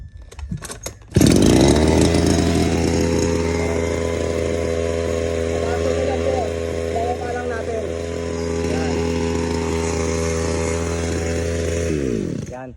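Eco 2-stroke grass cutter engine being repaired starts with a few pulls, then idles loud and close with a steady buzzing drone that holds until it cuts off at the end, with voices faintly underneath.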